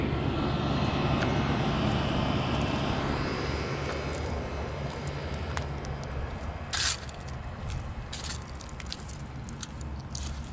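A 1989 Bryant central air conditioner unit running outdoors, a steady low mechanical hum with fan whoosh at moderate distance, unchanging throughout with one brief louder knock.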